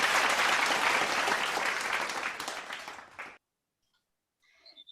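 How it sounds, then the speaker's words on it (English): Applause during an online church service, dense clapping that fades out after about three seconds, followed by silence and then a faint brief sound. "Let us welcome him with a virtual round of applause"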